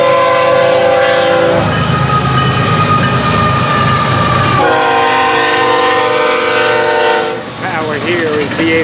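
FEC210 freight train approaching with a loud, sustained multi-tone horn blast, then rumbling and clattering wheels on track as it nears, the horn sounding again in short bursts, close and dominant throughout.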